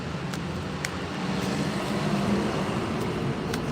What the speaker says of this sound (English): I can't handle another truck.